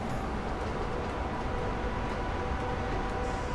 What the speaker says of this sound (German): Da fährt noch der Güterzug mit rein.